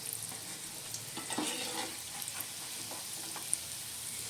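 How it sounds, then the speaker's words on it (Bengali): Vegetable chops deep fry in hot oil, giving off a steady, close sizzle with occasional stirring and turning sounds, and no one talking. "উল্টে পাল্টে খুব ভালো করে আমি চপগুলো ভেজে নেব।"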